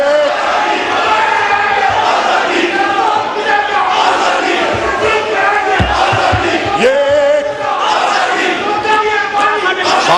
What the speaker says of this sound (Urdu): نعرے بازی مت کریں۔